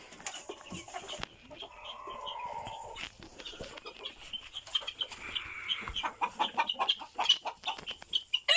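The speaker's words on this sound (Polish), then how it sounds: "kurki liliputki jeszcze nie wychodzą, boją się. Tam siedzą na grzędzie." Bantam hens roost on a perch indoors, sounding soft murmured clucks and drawn-out calls that build into quicker, louder clucking toward the end, close by with no talk.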